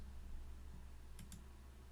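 Two quick keyboard key clicks in close succession, faint and near, over a steady low background hum.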